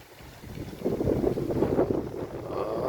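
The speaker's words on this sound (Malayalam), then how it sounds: "നല്ല കാറ്റുമുണ്ട്" Gusty wind rushes across the microphone outdoors, a low continuous roar that swells and stays steady for a few seconds.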